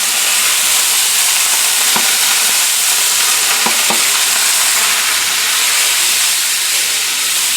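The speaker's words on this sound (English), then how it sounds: "what I'm going to do again is add a little wine in this" Shiitake mushrooms sizzle loudly in a hot pan as white wine hits them, a steady close hiss and crackle with a few brief sharp clinks of utensils.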